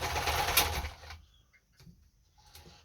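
A Kenmore 10-stitch sewing machine runs in a close, buzzing burst of stitching for about a second, then stops, leaving a few faint clicks and knocks.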